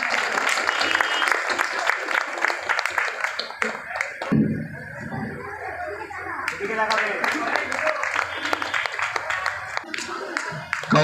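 Crowd clapping at a local ward gathering in Sonarpur, a dense burst of applause that dips briefly midway and then swells again, with voices talking underneath.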